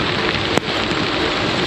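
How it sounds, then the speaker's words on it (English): Steady rain falls on a wet road surface during a long-distance bicycle tour, a dense even hiss throughout with one brief sharper tap partway through. "Once again, it's raining."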